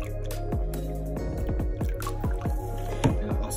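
Lye water solution poured into oils for apple pie cold process soap, a run of close, wet squishing drips and plops arriving in a quick uneven rhythm.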